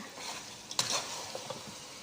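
Pieces of fried fish being stirred in a frying pan, a soft steady sizzle with one sharper scrape of the utensil partway through and a few lighter clicks after, no voices.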